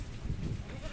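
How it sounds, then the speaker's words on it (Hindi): A single goat bleats briefly and close by, back from grazing at a village home during heavy rain, with steady low rumbling noise behind it. "मेरी बकरी अभी चर के आई हैं"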